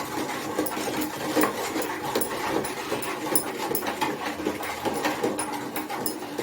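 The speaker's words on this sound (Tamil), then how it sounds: "பருப்பு மத்தை வச்சு நல்லா கடைஞ்சிக்கோங்க" Cooked dal for Andhra tomato pappu churned with a dal masher, giving a steady, dense scraping and swishing texture that runs close and continuous throughout, with no talking.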